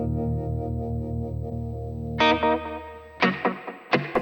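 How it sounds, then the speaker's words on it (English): Electric guitar played through a Blackstar ID:X 100 amp with analog delay and modulation: a long shimmering held chord, then sharp plucked notes with echoing repeats trailing away, clear and without speech. "I know an analog delay with a modulation on it."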